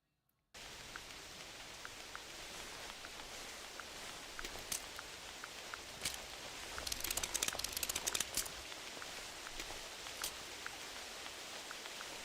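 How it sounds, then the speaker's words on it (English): Rain pours steadily in the hunting game theHunter Classic, a constant hiss of drops on foliage with scattered sharper splashes and a faint bird call, fairly quiet and with no speech. "Wow, that rain is loud."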